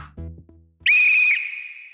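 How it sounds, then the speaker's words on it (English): A coach's whistle sounds once in a gym, a sharp, loud, shrill blast held for about half a second, then trailing off in a reverberant echo after a few soft thuds. "a whistle echoed through the gym"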